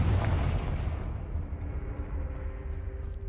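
A Confringo blasting spell explodes in Hogwarts Legacy, a loud broadband boom opening at full strength and decaying into a rumbling roar with a faint ringing tail, with no talking over it.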